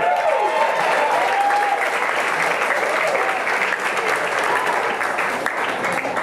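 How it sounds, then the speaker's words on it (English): Loud, sustained audience applause fills a comedy club as a comedian is welcomed to the stage, dense steady clapping with some crowd noise throughout. "Clap your hands, let her hear you."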